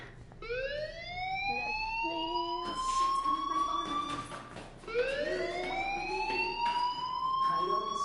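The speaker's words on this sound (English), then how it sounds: "do you hear that fire alarm?" A fire alarm in the Life Is Strange video game sounds in repeated rising electronic sweeps, each climbing wail looping about every four seconds, fairly faint against a low ambient background.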